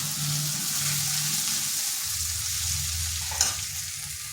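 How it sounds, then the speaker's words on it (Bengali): Grated ginger and turmeric fry gently in oil with a steady, even sizzle, a soft stir and a brief clink near the end, and no talking over it. "হালকা একটু ভেজে নিচ্ছি যাতে আদার কাঁচা গন্ধটা চলে যায়।"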